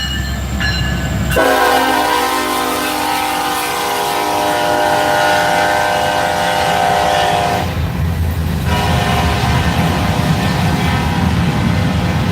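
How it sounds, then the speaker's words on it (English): A freight train rumbles past close by with a long, loud horn blast held over the rolling clatter of wagons, then the steady roar of the cars continues after the horn stops. "the train has to make an appearance in all of my videos"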